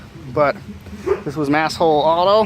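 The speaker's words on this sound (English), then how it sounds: "You can hear my dog in the background." A pet dog barks and yips in the background, several short bursts under a man's steady, close talking about a Ford Ranger truck build.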